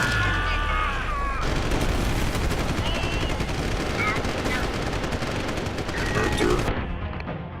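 Dense, rapid gunfire rattles continuously in Deus Ex: Human Revolution, loud and close, with overlapping automatic bursts that run for several seconds before cutting off abruptly.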